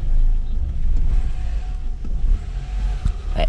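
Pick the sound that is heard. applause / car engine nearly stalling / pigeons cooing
car engine nearly stalling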